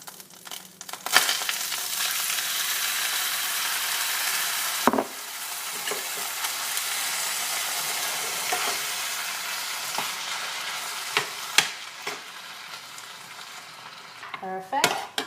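Chopped ingredients for Italian sausage rice hit a hot pan and fry with a steady, close sizzle, broken by sharp clinks and scrapes of a utensil stirring through the food.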